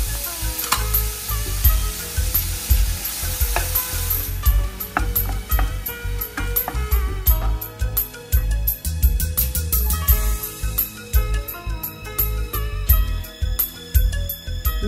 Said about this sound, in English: In the medium saucepan on medium heat, saute chopped yellow onion and shallot, canola oil, yellow onion and shallot.